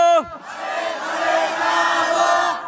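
At an Islamic sermon gathering, a large crowd shouts a slogan back in unison, a loud sustained roar of many voices lasting a couple of seconds right after a single leading voice cuts off.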